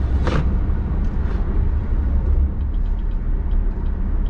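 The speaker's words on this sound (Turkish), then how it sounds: "Ani panik fren yapınca." A BYD Seal AWD sedan under sudden panic braking on a road, giving a loud, steady rumble of tyres and body noise with a brief sharp burst near the start and no talking.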